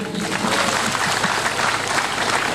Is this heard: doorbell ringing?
no